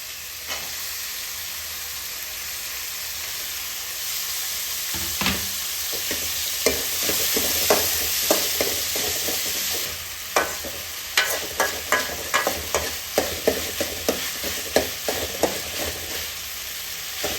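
Onions frying with tomatoes in a pan for radish kara kuzhambu, a steady close sizzle broken by a run of sharp, rhythmic scraping stirs that grow more frequent toward the end.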